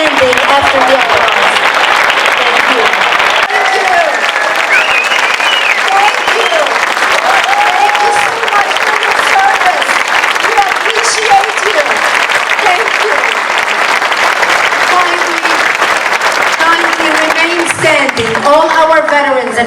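Loud, continuous audience applause and cheering at an event in Cleveland, honoring standing military personnel and veterans, a dense roar of clapping with voices calling out throughout.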